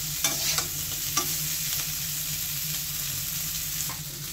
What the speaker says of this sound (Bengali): আমি ভেজে নিচ্ছি করলাটা।